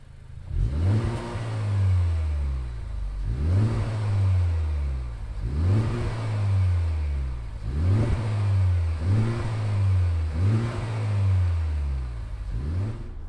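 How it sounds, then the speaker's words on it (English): A 2020 Honda Civic Type R engine is revved repeatedly, about seven rising-and-falling blips in a steady rhythm, close and loud with a deep rumble beneath each rise and no talking. "Let's fire up this Type R and see what kind of noise it makes."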